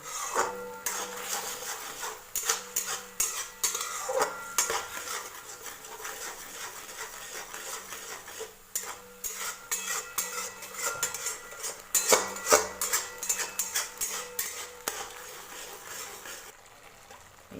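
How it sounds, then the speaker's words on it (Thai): A spatula scrapes and clatters against a pan while stir-frying a chickpea pizza topping, giving irregular metallic scraping and knocking strokes that come in bursts over a soft background hiss, louder around the middle. "ผัดไปจนกว่าจะสุกนะคะ"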